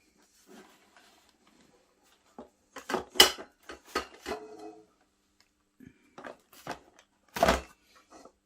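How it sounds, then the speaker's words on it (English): A cake being taken out of its baking tin: a few scattered knocks and clatters of metal tin against a surface, with soft handling noises between brief pauses. "So let's get the cake out of the tin now."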